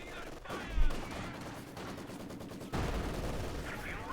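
Sustained machine gun fire and battlefield shooting in Company of Heroes 2, a steady rattling barrage with louder impacts cutting through the mix.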